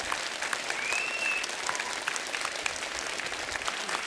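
Studio audience applauding on a comedy talk show, loud, dense clapping from a large crowd that holds steady throughout, with a brief whistle near the start.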